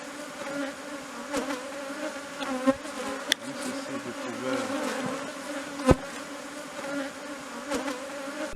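Bees swarm and buzz steadily around a school beehive in an agroforestry landscape near Yangambi, Tshopo, a dense continuous drone with a few sharp clicks and knocks.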